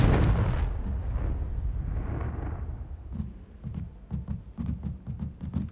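An explosive Confringo spell blast in Hogwarts Legacy: a loud, rumbling burst that fades, then a run of sharp, crackling pops and impacts.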